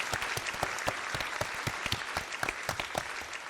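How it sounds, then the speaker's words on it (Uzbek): Team members at a quiz contest clap together in a brisk burst of applause, sharp, fairly close hand claps repeating in quick succession. "jamoa a'zolari bir olqishlab qo'ysin."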